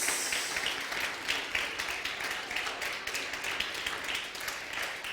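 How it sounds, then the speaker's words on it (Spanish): A church congregation applauds during a worship service, steady broadband clapping that is fairly faint and even, continuing throughout without clear speech. "Dale ese aplauso fuerte, que no es para mí, es para el Rey de Reyes."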